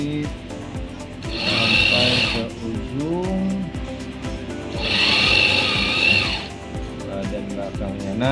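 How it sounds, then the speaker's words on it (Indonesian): A sewing machine stitches a seam on a women's blouse in two sustained bursts of whirring, with pauses between them where someone talks and the motor falls quiet. "dijahit sampai ke ujung"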